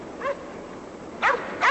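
A dog gives three short, close barks or yips: one early, then two more in a quick pair near the end, over a faint hiss of background noise.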